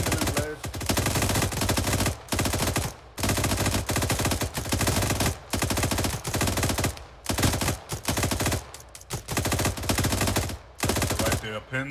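Continuous loud machine gun fire in the video game Arma 3, long sustained bursts broken by brief pauses.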